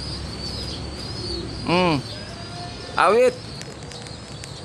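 Racing pigeons returning to a loft during training in Sariaya, Quezon give two loud, separate coos about a second apart against a faint outdoor background, with a short spoken word in between.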